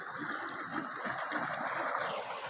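Bore well water pours steadily into a rice paddy in Saraiki Punjab, Pakistan, a continuous, moderately faint rushing gush with no voices over it.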